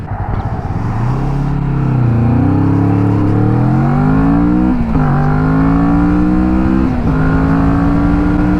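Kawasaki Vulcan S motorcycle, 47 hp version, accelerating hard with a loud, close engine note that climbs steadily in pitch through several gear changes, each marked by a brief dip before rising again.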